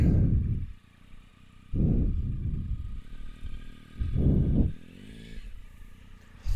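A motorcycle engine revs up and eases off in repeated surges, loud and close, with a steady idle rumble between the bursts.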